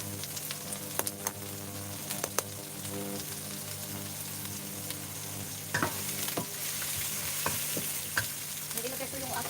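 Drunken noodles with chili stir-fried in a hot pan, with a steady loud sizzle and crackle and repeated sharp scrapes and clacks of a utensil against the pan. No voices.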